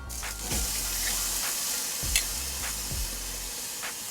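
Tri tip searing on a Kamado Joe Jr grill heated to 350 degrees, a steady close hiss with a few soft knocks and scrapes scattered through it, no voices.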